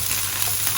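Ginger and garlic paste fries with golden onions in a pan for a kofta curry, giving a dense, even sizzle that holds steady for a brief moment.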